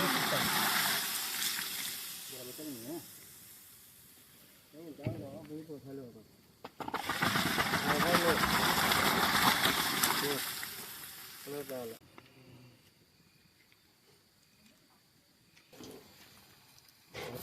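Water pours and gushes steadily into a mushroom biryani pot for several seconds, loud and close, with quieter stretches of kitchen clatter and sizzling before and after.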